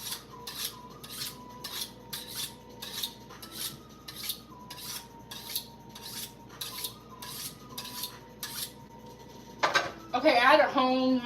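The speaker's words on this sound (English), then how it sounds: "I had to hone my knife because this knife is getting really dull" A dull kitchen knife is honed with about a dozen quick, evenly spaced metallic strokes against a steel, each a bright scraping swish, followed by a louder burst of clattering kitchen sounds at the end.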